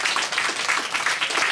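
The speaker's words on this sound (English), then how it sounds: "I would like for the class to give themselves a round of applause" A class gives itself a round of applause after an ensemble theater performance, a steady, fairly loud patter of many hands clapping together throughout.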